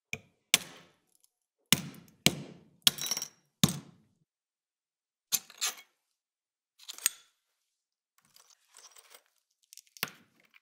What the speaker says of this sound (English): I then got out my hammer, and I carefully smashed it to pieces.